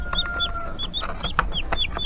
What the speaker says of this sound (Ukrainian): Це теж суточні курчата.